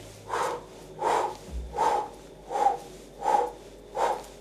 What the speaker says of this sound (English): we're going to start to add a breathing technique